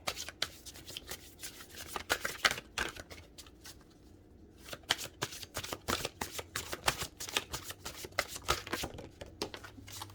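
Tarot cards being shuffled up close: rapid soft riffling and flicking runs continuously, pausing briefly midway before the crisp slapping resumes, quiet and without any voice.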